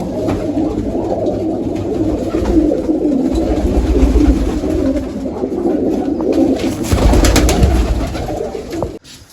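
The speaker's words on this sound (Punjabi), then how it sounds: "ਖੱਟਕਾ ਖਰਾ ਕਬੂਤਰ ਇਹ ਵੱਡਾ ਕਬੂਤਰ ਆਪਣਾ" Many pigeons coo in a dense, continuous low burble close by, rising and falling, with occasional wing flutters and no talking.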